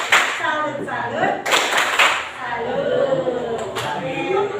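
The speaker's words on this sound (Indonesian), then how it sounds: "Ya, kita tepuk salut dulu." A classroom joins in a rhythmic 'tepuk salut' clapping cheer, with a quick series of sharp hand claps in patterned bursts while voices chant along over them.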